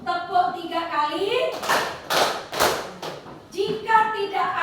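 Children in a classroom clap their hands together in response to a teacher's called count, producing a few loud, sharp bursts of clapping in quick succession between stretches of speech.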